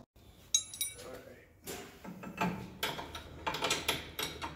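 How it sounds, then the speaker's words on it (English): Metallic clinks and ratcheting taps of a wrench tightening lock nuts on Kryptonite Death Grip tie rods on a Wildcat XX, a series of sharp irregular clicks in a quiet garage, close by. "got to lock all the lock nuts down"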